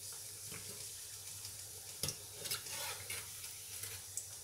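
Potato chicken donuts frying in hot oil, a continuous close crackling sizzle with scattered sharper pops and clacks as the pieces are turned in the pan, no voices.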